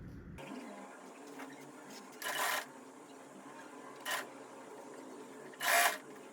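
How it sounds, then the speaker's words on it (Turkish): An overlock machine sews shirt seams in three short whirring bursts, each lasting under a second, separated by quieter pauses over a faint room background. "diktiğim tüm kenarlardan ovarlık makinesiyle dikiyorum"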